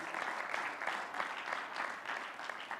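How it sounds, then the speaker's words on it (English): Audience applause at an annual review event at Kigali Convention Centre, a dense, steady wash of many hands clapping that holds at even loudness throughout, with no voices over it. "So please give a round of applause for the organizing committee."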